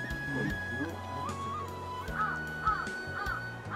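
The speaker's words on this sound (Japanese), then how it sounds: "カラスの稼ぎ時。" Crows caw several times at a distance, harsh repeated calls rising above outdoor ambience and a low steady drone, with people talking faintly in the background.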